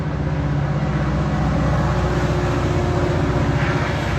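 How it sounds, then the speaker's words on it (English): Loud train passing nearby, a steady heavy rumble with rhythmic low clatter that fills the whole stretch without any speech. "Loud train is going by, I apologize."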